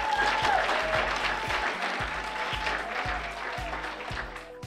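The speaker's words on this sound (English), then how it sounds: "If you believe that, clap your hands." Sustained audience applause, dense steady clapping from a crowd that fills the whole moment without a break.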